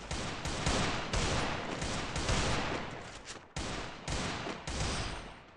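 Rapid bursts of video game gunfire, loud and dense, with repeated volleys separated by brief gaps.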